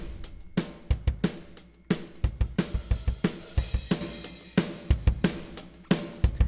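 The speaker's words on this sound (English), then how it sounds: "So I wanted some more edge, right? So I add some compression." A compressed pop punk drum kit from Superior Drummer software drives a steady groove with kick and snare hits thickened into an edgier, denser attack under continuous cymbals, with no voices.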